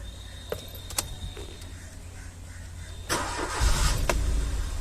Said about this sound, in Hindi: सबसे पहले गाड़ी को स्टार्ट करते हैं ताकि चेक करें कि इसकी चेक इंजन लाइट वापस आ तो नहीं रही है।